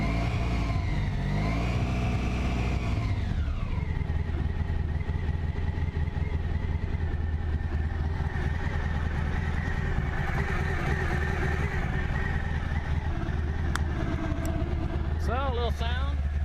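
Honda ST1100 motorcycle engine idling after a warm start, a steady low rumble throughout with a brief rise and settle early on, close and continuous.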